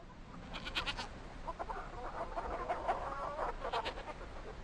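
Hens cluck and squawk among farm animals in a garden, with a goat nearby, a busy medium-distance cluster of short calls over a quiet background.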